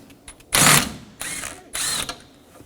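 Three bursts of a ratchet tool spinning as it removes a 7mm bolt from a Chevrolet Equinox active grille shutter mounting tab, whirring clicks close by, each burst about half a second with short gaps between.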